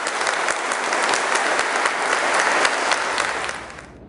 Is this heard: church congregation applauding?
yes